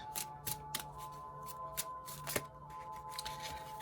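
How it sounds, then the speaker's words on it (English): Tarot cards are shuffled and handled close up in soft, repeated riffling and flicking bursts over a faint steady background hum. "Let me pick another card now. I'm going to pick a card for the moon."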